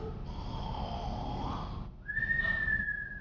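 A voice imitates a sleeping giant's snoring: a breathy, rasping inhale followed by a rising whistle on the exhale, soft and close.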